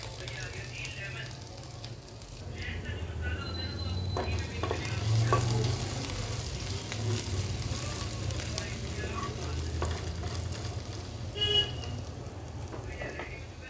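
Cumin, garlic and ginger frying in oil in a pan for a Bengali aloo begun curry, a steady loud sizzle with stirring scrapes and a few clatters throughout.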